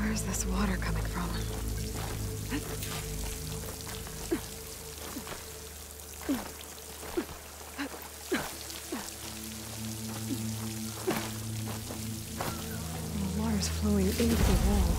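Water flowing and splashing near a waterfall in the video game Horizon Forbidden West, a steady pouring wash with scattered droplet splashes beneath a voice talking.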